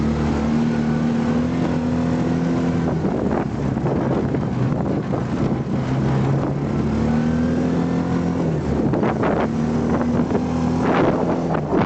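A Vmoto Scartt electric motorbike idling on a hill on a New Zealand dairy farm: a continuous low motor hum with a faint wavering whine, heavily buffeted by wind across the microphone.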